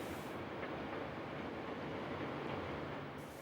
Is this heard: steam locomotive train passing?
yes